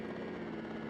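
Helicopter in the 1988 computer game Live and Let Die, a faint, steady droning engine whir that holds even throughout, with no voices.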